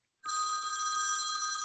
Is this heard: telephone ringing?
yes